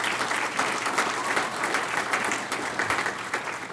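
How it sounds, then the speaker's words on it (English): A crowd claps steadily for scout volunteers at an awards breakfast, a dense, even wash of applause heard alone for a few seconds. "A big round of applause for all of our direct volunteers to the Scout units in the Carroll District."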